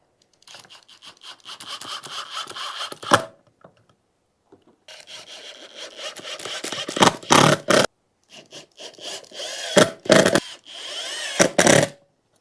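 Screws are driven with a power driver through a metal floor flange into lumber for a ceiling mount, in several bursts of grinding, rasping noise separated by pauses, ending with short sharp final runs as each screw seats.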